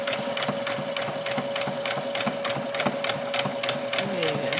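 A domestic sewing machine stitching a doll's dress runs steadily and close, its rapid regular needle clatter over a constant motor whine, with a faint voice underneath.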